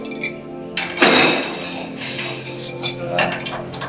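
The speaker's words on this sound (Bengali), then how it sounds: "দেখতে পারেন যে রেঞ্জ দিয়ে আমি এটাকে টাইট দিচ্ছি।" A wrench tightening a plumbing reducing tee, giving metallic clinks and scraping knocks, one louder clank near the middle, with a steady hum underneath.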